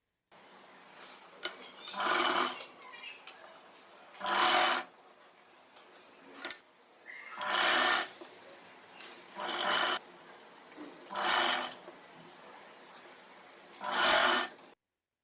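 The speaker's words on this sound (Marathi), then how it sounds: "आणि मग याच्यावरती शिले मारून घ्यायची" Sewing machine stitching the shoulder seam of a designer blouse, running in six short bursts of a few seconds each, separated by pauses with faint handling noise.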